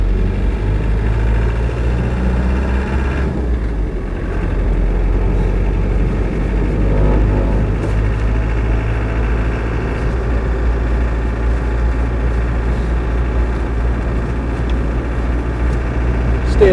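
A Land Rover 90 with a 200TDi diesel engine drives with a steady, loud low diesel drone, constant throughout, with a faint voice in the background.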